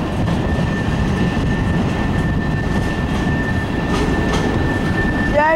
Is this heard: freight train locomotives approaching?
yes